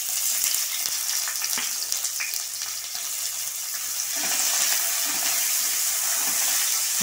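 Sliced onion sautéing in ghee for ghee rice, a steady broadband sizzle that holds throughout and grows a little louder and denser midway, with faint stirring scrapes and no talk.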